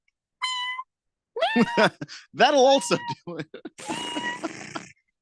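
A man imitates a rattlesnake's rattle with his voice, giving a harsh, hissing, buzzing burst near the end, after a short squeak and some chatter among people nearby.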